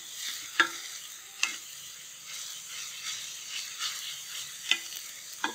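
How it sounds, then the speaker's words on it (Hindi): Roll filling mixed in a frying pan, a soft sizzle under repeated scraping strokes and several sharp clanks of a spoon against the pan, close and moderately loud, without any talking. "पहले इनको अच्छे से मिक्स करेंगे"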